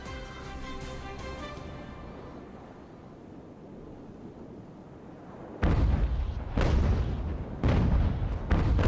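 Ship cannon broadsides in the Ultimate Admiral: Age of Sail naval game, loud booming volleys arriving in several heavy bursts after a quieter stretch of sea and ambient music.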